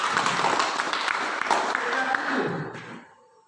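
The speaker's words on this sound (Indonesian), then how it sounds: "Tepuk tangan untuk" An audience applauds at an Indonesian class session, a dense wash of clapping that holds steady, then fades out toward the end.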